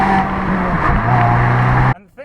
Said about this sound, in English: Car sounds pretty decent as well